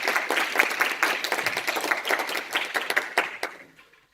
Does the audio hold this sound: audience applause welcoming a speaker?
yes